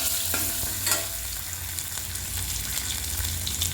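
Bay leaves fry briefly in hot oil over a spice paste for a zucchini, capsicum and egg kurma, giving a close, steady sizzle with scattered utensil clicks and stirring scrapes, no voice present.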